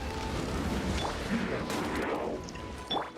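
Cannons fire in Genshin Impact with heavy booming blasts inside a dense, continuous wash of battle noise and effects, loud and close throughout.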